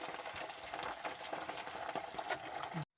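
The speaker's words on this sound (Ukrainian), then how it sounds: "Прикриваємо кришечкою і смажимо з однієї і з іншої сторони по готовності." Chicken thighs crackle and sizzle steadily in a covered pan, a busy, even frying noise that cuts off abruptly at the end.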